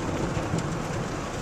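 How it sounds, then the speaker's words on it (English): Steady broadband rain roar from a rainstorm with a low rumble of thunder blended into it, continuous and fairly loud throughout, with no voices. "Oh, that was the thunder."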